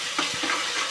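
Garlic-ginger paste fries and gets stirred in a pan for chicken biryani, giving a soft continuous sizzle with a few brief scraping stirs, close and moderately quiet.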